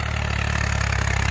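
Swaraj 855 tractor engine running steadily while pulling a new-style cultivator in a field, a continuous loud low diesel throb with a regular pulsing rhythm, close by and with no talk.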